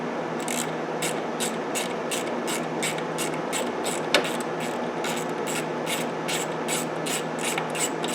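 A ratchet clicks rapidly and steadily, loosening an 8mm bolt on the ignition coil of a 2002 Ford Escape, the repeated pawl ticks close and continuous with one brief sharper knock midway.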